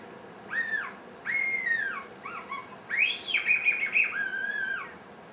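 A human voice imitates a rabbit screaming in a trap, producing a series of high, whistling squeals that rise and fall in short bursts, close and fairly loud against a quiet background.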